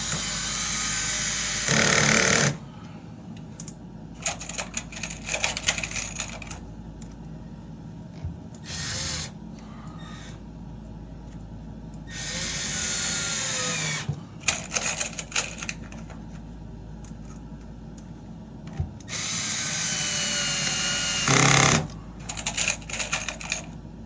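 A drill drives screws to fasten an ABS toilet flange to the floor, giving four loud, close bursts of whirring separated by pauses filled with clicks, taps and handling noise; no one speaks.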